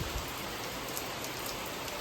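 Heavy rain comes down in a dense, unbroken patter, constant and fairly close.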